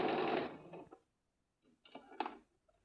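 A sewing machine stitching a trouser hem, a short buzzing run of stitches followed by a pause and then two more brief bursts, quiet and close.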